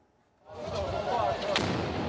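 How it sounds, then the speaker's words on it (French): A bombing explosion in the heart of Gaza in the afternoon erupts as a sudden, heavy boom rolling into a long rumbling roar with a sharp crack partway through, heard from a distance. "Une explosion en plein après-midi au cœur de Gaza."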